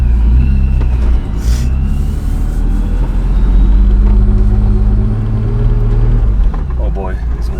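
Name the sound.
turbocharged BMW E36 car driving around parking lot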